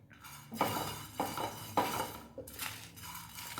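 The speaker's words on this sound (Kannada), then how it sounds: "1 ಸ್ಪೂನಷ್ಟು ಪೆಪ್ಪರ್ ಕಾಳು, 2 ಮೆಣಸು ಖಾರಕ್ಕೆ, 1 ಲವಂಗ ಹಾಕಿ ಇದನ್ನು ರೋಸ್ಟ್ ಮಾಡಿ" Peppercorns, dried chillies and a clove dry-roasting in a pan, stirred with a spoon that scrapes and knocks against the metal in a few separate strokes under a faint sizzle, close by.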